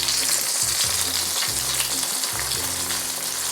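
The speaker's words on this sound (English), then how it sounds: "so that the oil will touch the skin of the fish, and then it will continue cooking" Fish for sweet and sour fish fries skin-side down in hot oil, a loud, dense, unbroken sizzle heard close up.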